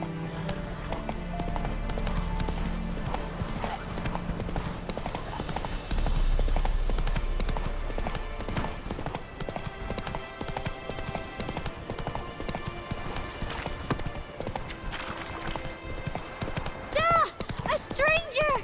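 A horse gallops in the video game The Witcher 3 with a rhythmic clip-clop of hooves under music and game sound, while voices talk over it.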